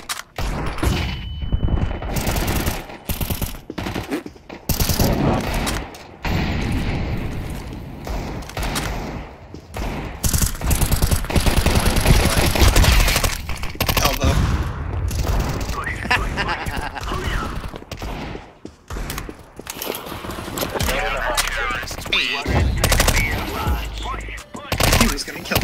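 Gunfire in a Counter-Strike 2 competitive match on the Office map, with Desert Eagle shots among dense, rapid bursts and thuds of other weapons, loud and nearly continuous over roughly 25 seconds, with players talking over it.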